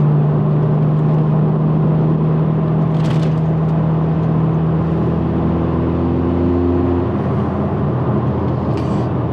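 A Mercedes GLA45 AMG driven gently while its engine warms up gives a steady low engine hum and road drone, with a faint shift in pitch partway through and no talking.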